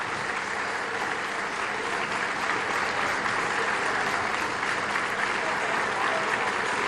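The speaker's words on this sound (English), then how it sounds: "Now being lifted to her feet is Megan Pym, and a good round of applause." A basketball arena crowd at a women's college game applauds steadily as an injured player is helped to her feet, a dense, even wash of clapping that holds throughout.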